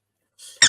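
A short, bright squeaky sound effect pops up once, loud and close, right after a softer hissy lead-in, with no talk over it.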